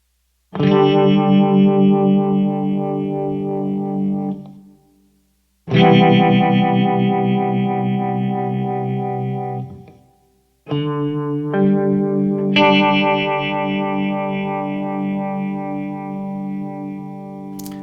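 A distorted, heavily effected instrument plays three long sustained chords with a swirling, sweeping phaser tone, each ringing out and fading before the next.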